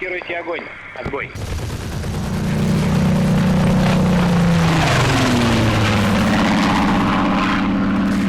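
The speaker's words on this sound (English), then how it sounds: "The turn ends with our aircraft coming around yet again and firing at something we don't see at the other end of the map." In the video game Combat Mission: Red Thunder, an aircraft's loud droning propeller engine roars close overhead with rapid gunfire crackling underneath, the engine pitch shifting as the aircraft comes around for another firing pass.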